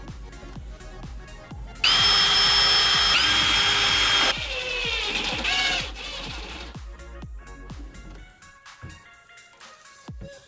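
A power drill whines loudly for a few seconds as it drives screws through a pantry drawer front from behind, then trails off, with clicks and taps around it.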